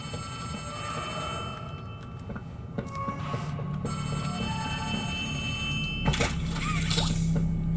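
In the video game Poppy Playtime Chapter 3, a telephone rings with repeated bell tones over a droning, cluttered game ambience, fairly faint.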